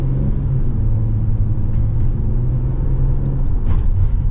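A 2026 Ram ProMaster 3500 cargo van cruises on a highway. Inside the cabin there is a steady, loud low rumble of road and engine noise, with a faint hum, and no talking.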